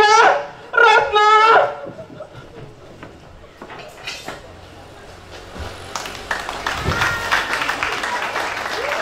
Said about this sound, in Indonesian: Boleh sekali lagi tepuk tangannya untuk teater Tembako